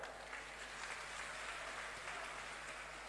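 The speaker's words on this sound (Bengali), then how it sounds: "তাই কৃষ্ণগঞ্জের জন্য একটা জোরে হাততালি হয়ে যায়" A large crowd at an outdoor political rally claps together, a dense, even wash of applause lasting the whole stretch, heard from a little distance over a low hum.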